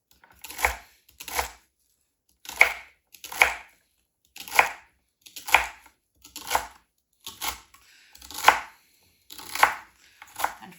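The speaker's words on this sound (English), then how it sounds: "I'm just gonna cut that celery leaves into all of this as well." A knife chops through celery stalks and leaves on a cutting board in about eleven crisp, evenly spaced cuts, each a short crunchy thud with quiet pauses between.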